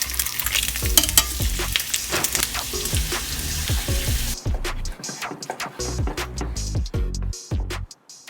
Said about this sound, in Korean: 삶은 고기를 팬에 구워줍니다.